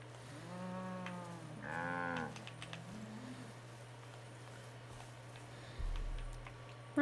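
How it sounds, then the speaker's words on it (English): Cattle in the open-world game Far Cry 5 low out in several long drawn moos, a couple of them close together, over a faint steady hum and soft ambient noise. "Come on, cows. Time to go home."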